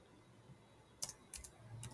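Keys clack on a computer keyboard in two short bursts of quick taps, faint and close, over quiet room hiss with no talking.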